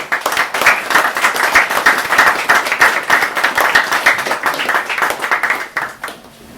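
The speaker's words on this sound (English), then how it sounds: "So let's give Tommy a warm round of applause" Small crowd at an open mic night in The White House Bar, Limerick, clapping warmly in a close, lively burst that stays steady and then tapers off.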